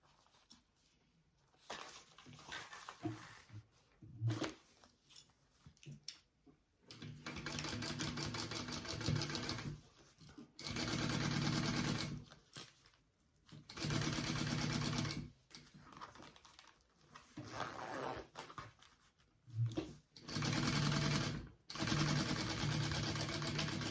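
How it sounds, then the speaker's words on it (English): A sewing machine stitches a 1/4 inch seam on a sling bag. It runs in several bursts of rapid, steady mechanical whirring, separated by quiet pauses and faint handling noise. "we are going to sew that at our 1/4 inch seam allowance"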